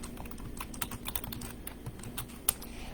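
Quiet, close typing on a computer keyboard, a quick irregular patter of key clicks over about three seconds with one sharper tap near the end.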